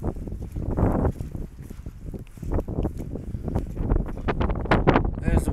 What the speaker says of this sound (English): Just realised it's windy, you probably can't hear me.